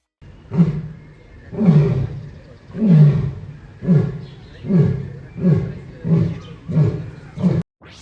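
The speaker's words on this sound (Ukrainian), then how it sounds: "нас зустрічають величні африканські леви. Їхній рик змушує серце битися швидше" African lions roar in an enclosure at Budapest Zoo: about eight deep, grunting roars follow one another in an even rhythm, loud and close, before cutting off abruptly.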